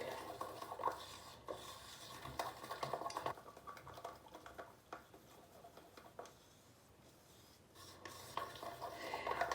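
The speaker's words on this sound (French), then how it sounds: "je mélange avec ma spatule" A spatula stirs a peel-off face mask mixture in a small bowl, making steady scraping and clicking strokes with soft wet smacks, close and fairly quiet, with a brief lull midway before stirring resumes.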